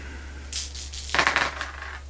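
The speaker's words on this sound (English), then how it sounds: "And then let's re-roll these dice." Dice tumbling and clattering onto a table during a Deep Space D-6 board game, a brief rattle followed by a denser burst of clicks, fairly close with a steady low hum underneath.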